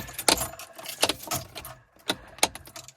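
Keys jangle in short metallic bursts while the ignition key of a Triumph 1300 barn-find car, stored for 40 years, is turned; several close, bright clusters of jingling with quiet gaps between them.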